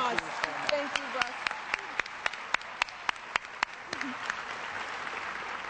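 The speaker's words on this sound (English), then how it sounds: "So let's give him another round of applause." An audience at a Wisconsin campaign event applauds Russ Feingold, steady dense clapping with a few louder individual claps standing out near the microphone.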